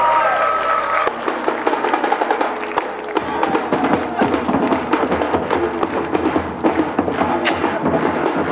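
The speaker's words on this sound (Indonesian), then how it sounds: "Tepuk tangan buat Raplesia Percussion." A studio audience bursts into dense, steady applause for the Raplesia Percussion group, loud and close, with thumps and some cheering mixed in, building after an opening moment of quieter sound and continuing throughout.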